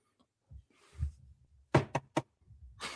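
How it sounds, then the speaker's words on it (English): A few quick knocks on wood in a sports talk show, three sharp raps close together, loud and near, with faint rustling around them. "Knock on wood here."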